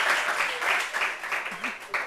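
Audience applause at a French stage gathering, a steady wash of clapping rising and falling in waves with voices talking over it.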